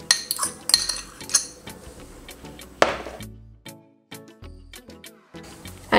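Salt, sugar, baking powder and butter are worked together in a bowl for meat pie dough, giving sharp clinks and scrapes of a utensil against the bowl in irregular bursts, close and fairly quiet, with no talk.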